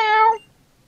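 Litten, the fire-cat starter in Pokémon Moon, gives a single short, bright synthesized meow cry that cuts off cleanly into silence.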